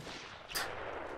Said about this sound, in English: You shot me with a sniper at point blank range right in the face